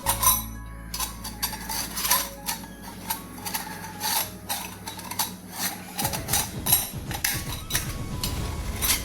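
A metal murukku press mould is fitted and screwed tight, producing a run of scraping metallic clinks and rubbing clicks in an irregular rhythm, close and moderately loud, with a low hum that cuts out partway through and no speech.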